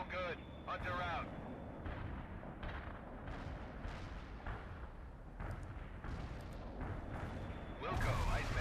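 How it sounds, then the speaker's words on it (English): Artillery barrage in the video game World in Conflict, with repeated booming impacts and rumbling blasts throughout while radio-style voices talk over the battle. "Artillery barrage was a no-hit."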